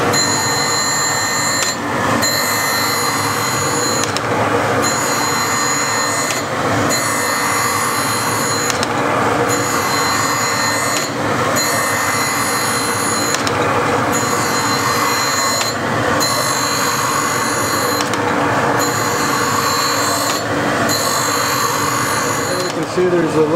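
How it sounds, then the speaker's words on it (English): A grinder truing a Deckel milling machine table with a slight belly in its side keeps up a loud, steady grinding whine, pulsing in regular passes about every few seconds as the wheel travels across the workpiece. "it's a good thing we're putting this on the grinder to get that wow out of there and straighten it all up"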